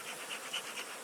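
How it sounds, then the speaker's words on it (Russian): Honeybees being smoked and shaken off hive frames make a soft, steady buzzing hum, fairly faint, with slight swells in loudness and no voices. "Дымим, стряхиваем пчелок, чтобы они оставались максимально в улике."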